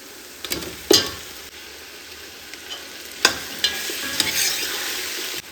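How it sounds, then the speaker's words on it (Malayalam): Chicken pieces going into a hot pan for biryani, with soft stirring and scraping and a few sharp sizzling bursts over a steady low frying hiss. "ഇനി നമുക്ക് ഇതിലേക്ക് ചിക്കൻ ഇട്ട് കൊടുക്കാം."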